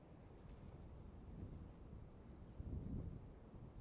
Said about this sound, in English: It's rather windy.